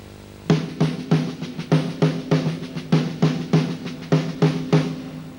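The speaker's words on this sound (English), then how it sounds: "The triple paradiddle is this." A triple paradiddle played on a drum kit, rapid sticking strokes grouped in repeating accented bursts, close and loud with no talking.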